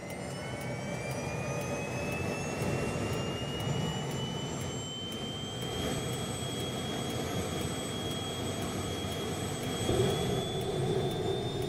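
A de Havilland DHC-3 Otter turbine engine spools up on start, a steady loud jet-like whine with rising high-pitched tones and a rushing roar, heard close and alone without talk.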